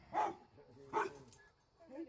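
A pet dog gives two short, close barks about a second apart, with quieter sounds between them.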